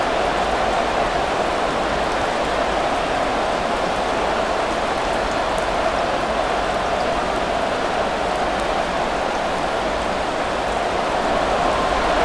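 Steady rain falls in the Madden NFL 24 football video game at FedEx Field, a continuous dense hiss of even loudness throughout, with no commentary over it.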